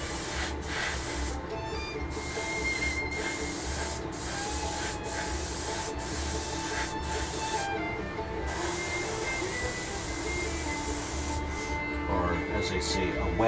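Airbrush spray gun applying paint to a 1/48 scale MiG-17F model, a continuous soft airy hiss broken by brief trigger pauses, close and steady, with a low background hum.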